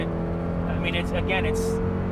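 A 1991 Mazda Miata engine revs up with a high, screaming note, close and steady, under continuous conversation from people nearby.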